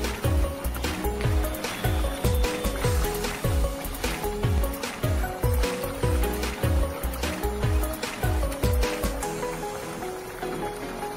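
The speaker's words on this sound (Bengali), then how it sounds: "আর দিয়ে দিলাম সাই গরম মশলা, দিয়ে ভালো করে একটু নেড়ে চেড়ে নিচ্ছি।" Potato curry with garam masala is stirred in a pan, making a steady run of about twenty rhythmic wet scraping strokes, close and moderate in level, with no talking.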